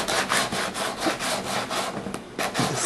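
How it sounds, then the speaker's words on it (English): Hand sanding of a dinged surfboard repair with sandpaper, a close, steady back-and-forth scratching in rhythmic strokes, roughly five or six passes, heard alone. "the only thing that's left to do is to smooth it out again with your sandpaper"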